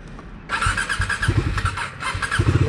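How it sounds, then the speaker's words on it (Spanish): A Bajaj Dominar 250 motorcycle engine starts up after a quiet moment, reluctant to start, and settles into a steady, rough idle close by. "Prendemos la moto."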